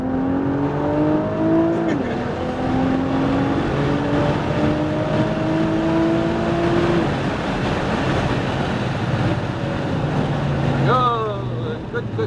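A Nissan GT-R R35 on a race track accelerates hard, its engine note climbing through rising sweeps and shifting gears near the cabin, while an instructor talks over the continuous roar.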